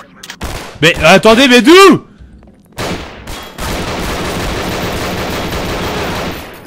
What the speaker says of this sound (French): Je vais peut-être tirer dedans.